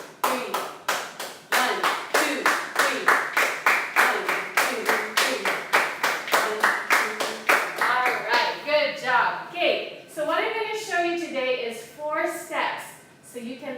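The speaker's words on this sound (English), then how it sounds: "you'll be able to clap the rhythm by following this first step" Hands clap a steady, evenly spaced rhythm nearby in a music lesson, many sharp claps in a row, then a voice speaks while a few claps continue.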